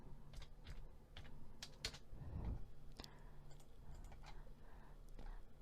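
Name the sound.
typing on a computer keyboard during data entry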